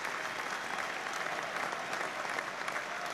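A large crowd applauds continuously in stadium stands, a dense, even wash of clapping that fills the whole stretch without pause.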